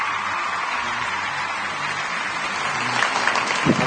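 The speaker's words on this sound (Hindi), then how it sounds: "पहले वो जरा मुझे तालियां दें" A studio audience at an Eid special talk show claps in a steady, dense wash of applause at moderate volume, swelling slightly toward the end.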